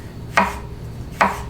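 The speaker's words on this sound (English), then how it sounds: "The best mushroom chop I've done." Two crisp knife strikes on a cutting board as mushrooms are chopped finely, each a sharp close thud with a brief ringing tail, evenly spaced with no talk.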